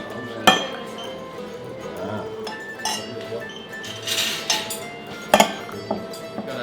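Several sharp metal forks and cutlery clink against dishes in a home kitchen where fresh pesto pasta has just been made, bright isolated clinks spaced out over a low background murmur.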